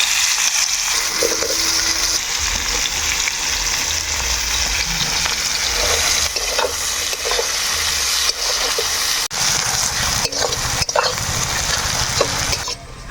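Chopped onions fry in hot oil with whole garam masala, giving a steady loud sizzle with occasional stirring scrapes.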